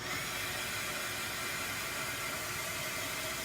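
A handheld dryer blows on freshly stencilled paint with a constant, close, airy whoosh that holds steady throughout, and no one speaks.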